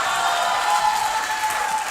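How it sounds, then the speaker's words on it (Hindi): Studio audience applause on a Pakistani morning talk show, a steady dense patter of clapping throughout, fairly loud and close, with a faint tone running underneath and no talking. "तालियां।"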